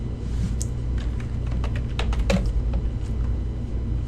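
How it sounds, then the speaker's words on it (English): Keys clatter on a computer keyboard in quick irregular bursts as a student's first name is typed, close and clear over a low steady hum. "now we might want to type in the student's first name"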